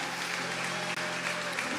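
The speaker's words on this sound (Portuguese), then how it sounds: "eu acredito que a igreja merece uma salva de palmas" A church congregation applauds, dense, steady clapping filling the room at a moderate distance.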